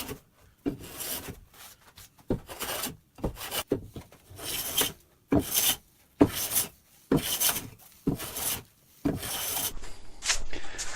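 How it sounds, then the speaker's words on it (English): Repeated rasping strokes of a hand plane across wood, each pass a short scraping burst separated by brief pauses, steady and close. "take my hand planer and try to get some of these big lips and edges cleaned off"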